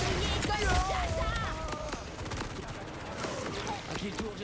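Rapid gunfire crackles in a busy Borderlands 4 shooter fight, bursts of shots mixed with game sounds while a voice talks over them.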